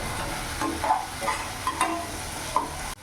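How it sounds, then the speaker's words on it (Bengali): A spoon stirs ginger, garlic and chilli paste frying in a pan for mushroom gravy, giving steady close sizzle with light scraping clicks, ending abruptly. "ভালো করে মিশিয়ে নিলাম।"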